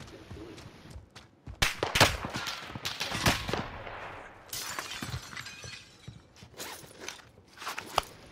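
Video game gunfire with sharp shots, short bursts and shattering impacts, scattered unevenly and loud in places, with footsteps between them.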